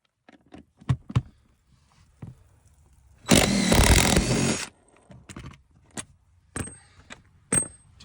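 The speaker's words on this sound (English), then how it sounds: "Now I've got my DeWalt again with a 13mm socket, and we're going to take these bolts out." A DeWalt power tool fitted with a 13mm socket removes bolts during a hotshot truck bed swap, giving one loud, close burst of whirring rattle lasting over a second, framed by scattered metallic clicks and clanks.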